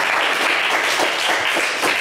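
A crowd applauding loudly in a TV game show studio, steady dense clapping that continues for the whole stretch with no voices over it.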